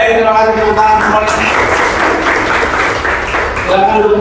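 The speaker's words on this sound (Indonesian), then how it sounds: "terima kasih tepuk tangan semuanya" Students in an Indonesian school classroom give a loud round of clapping after singing a national song, dense steady hand claps in the middle with a voice speaking at the start and end.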